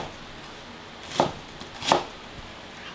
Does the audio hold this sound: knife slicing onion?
yes